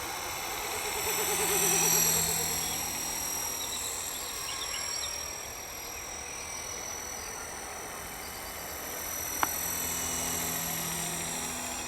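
Small radio-controlled model helicopter fitted with a Microheli kit, flying sweeping slow turns outdoors, giving a steady whining rotor and motor drone that swells and fades a little as it passes, with a brief click near the end.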